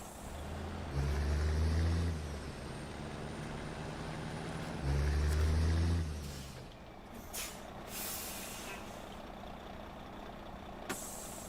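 A heavy truck in the snowy off-road driving game SnowRunner rumbles under engine load in two loud surges, then hisses and clanks as its air brakes release, leaving a quieter idle with scattered knocks.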